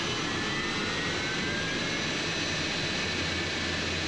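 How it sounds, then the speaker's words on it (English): An F-100 jet's engine runs steadily at close range, a loud, constant roar with a thin high whine on top. "the engine is self-sustaining at this point"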